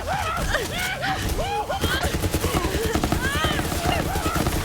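Rapid gunfire in the video game Borderlands 3 in Mayhem Mode, dense repeated shots and bursts under loud, excited talk and vocal exclamations throughout.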